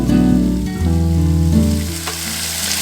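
About a kilogram of chicken pieces hits hot masala in a pan over high flame, setting off a loud, continuous sizzle that dips briefly and then surges back.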